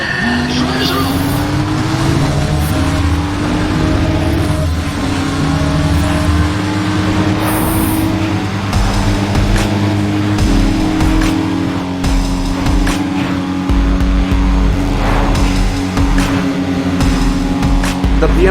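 Race cars in Need for Speed ProStreet, including a BMW and a Supra, roar off the start line with loud, sustained engine drones shifting in pitch through gear changes, punctuated by brief tire squeals.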